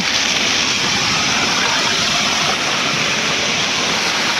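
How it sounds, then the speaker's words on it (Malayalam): Floodwater gushes under high pressure through holes in a highway road, a loud, unbroken roaring rush like a waterfall that stays steady from start to end. "ആ ഓൾസ് വഴിയാണ് ഈ വെള്ളം ചാടിക്കൊണ്ടിരിക്കുന്നത്"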